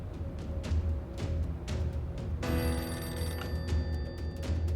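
A telephone bell rings steadily in bursts over a low background hum, with the electronic ringing growing brighter and more insistent partway through.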